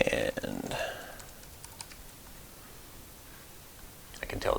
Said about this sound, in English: Now I'm going to type in my proper credentials